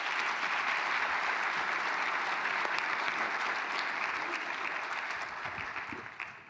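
A conference audience at a global surgery plenary breaks into sustained applause, dense steady clapping from a large crowd that slowly tapers off toward the end.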